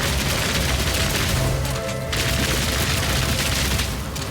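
Rapid shot attacks in Path of Exile 2, played as a frozen boomstick Witch Hunter, fire as a dense, continuous barrage of booming gunfire-like blasts and crashes, loud and sustained with no talking over it.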